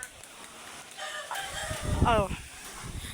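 A rooster crows once nearby, its rising, wavering call standing out over faint background noise.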